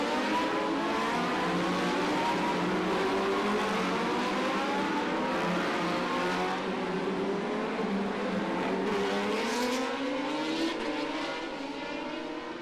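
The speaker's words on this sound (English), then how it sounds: "It's Rutter who's leading them on this warm-up lap" Racing motorcycles at the Macau Grand Prix motorcycle race, engines droning loud and steady on the warm-up lap, overlapping engine tones rising and falling continuously with no talk.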